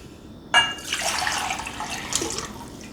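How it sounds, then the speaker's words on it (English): Water pours from a tap into a cooking pot, a sudden splash followed by a steady, fairly quiet gushing stream lasting a couple of seconds, heard alone. "So we're going to put our water in our pot."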